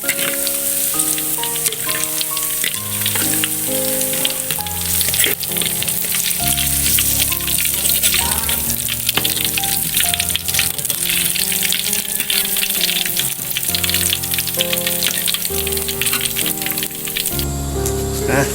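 Garlic, chili and shallots frying in a pan give a constant crackling sizzle, with someone speaking Thai and musical tones layered over it the whole time.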